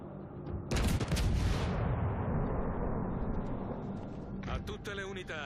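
Warship main guns fire at a destroyer in World of Warships Legends, a loud booming salvo that rumbles and decays for several seconds, followed by a shorter burst of firing near the end.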